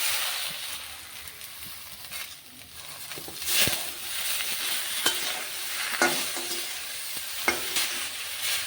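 Malabar spinach leaves being stirred into boiled potatoes in a pan, a soft steady sizzle with scraping and a few sharper spoon taps against the pan, fairly quiet and continuous, no talking.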